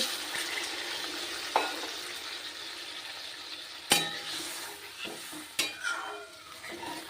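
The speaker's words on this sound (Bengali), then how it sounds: "একটু মশলা দিয়ে কষিয়ে নিচ্ছি" Spices fry in a pan with a soft background sizzle, broken by a few sharp clanks and scrapes of a utensil stirring against the metal, with no voices.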